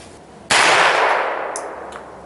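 An airgun fired with a nail gun blank at a target outdoors: one sudden, very loud, sharp bang with a ringing, slowly decaying tail, followed by two faint ticks.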